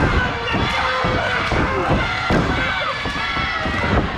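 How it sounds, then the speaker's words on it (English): A wrestling crowd cheers and shouts loudly and continuously, with a busy roar of voices and scattered sharp bursts of noise throughout. "Crowd coming alive."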